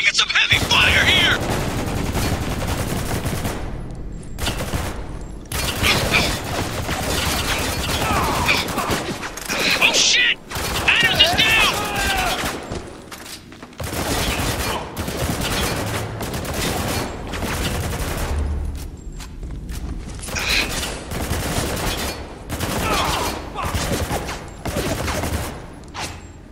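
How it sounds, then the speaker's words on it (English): Heavy gunfire in the war shooter Spec Ops: The Line, with sustained bursts and rapid machine-gun fusillades that come in dense volleys, broken by short pauses, loud and close, while soldiers shout over the shooting. "We're taking some heavy fire here!"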